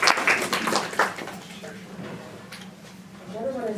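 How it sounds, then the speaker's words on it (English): Brief applause from an audience at a World Theater Day inauguration event, a quick burst of scattered clapping in the opening second that thins out beneath murmuring and talking voices. "a round of applause,"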